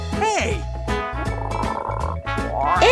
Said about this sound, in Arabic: إنه ضفدع.